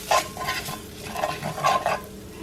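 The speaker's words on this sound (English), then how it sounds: "just stir it around just a little bit." A spoon stirs cube steak around a frying pan in a few short scraping strokes over a soft, steady sizzle, close and alone with no talk.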